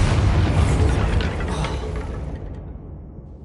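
A Bombarda explosion spell goes off in Hogwarts Legacy as a single heavy, close blast with a rumbling, debris-filled tail that fades out over a few seconds.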